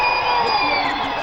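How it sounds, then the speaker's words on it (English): A dense protest crowd at Jantar Mantar roars with chanting and shouting, a continuous loud wall of overlapping voices. "You can hear the chants, the screaming, shouting behind me."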